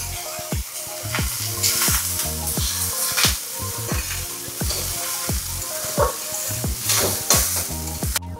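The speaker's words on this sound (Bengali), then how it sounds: "এরপরে আমরা ওপর থেকে রাইসগুলো দিয়ে দিচ্ছি, দিয়ে ভালো করে নেড়ে ছেড়ে নিতে হবে।" Cooked rice stir-fried in a hot pan for homemade vegetable fried rice, a continuous sizzle broken by a regular series of clanging spatula strikes and scrapes against the metal, close and lively.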